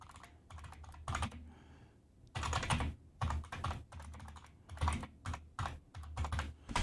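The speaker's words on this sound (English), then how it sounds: "That's my loud keyboard." Rapid clattering keystrokes come in loud bursts on an old IBM Model M buckling-spring keyboard, close and sharp, with brief pauses between flurries of typing.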